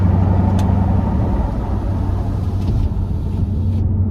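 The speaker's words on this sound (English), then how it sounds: "Damn, that sounds good, don't it? Did a muffler delete on this thing." Steady low exhaust rumble from a car running without its muffler after a muffler delete, loud and close throughout, with a constant deep tone under a brief light rise in engine note.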